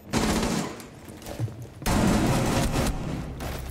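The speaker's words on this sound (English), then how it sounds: "I'm under fire." Gunfire in Apex Legends, rapid bursts of automatic shots in two dense volleys separated by a brief lull, loud and close, no talk.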